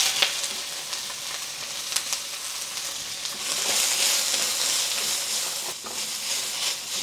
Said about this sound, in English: Quickly adding another tablespoon of oil. And we're going to add our onion.